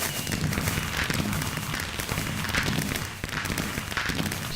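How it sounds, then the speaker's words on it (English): Minecraft fireworks burst in a steady crackling barrage, dense popping and sparkling bursts layered together at close range without any talk. "I can even go in the fireworks."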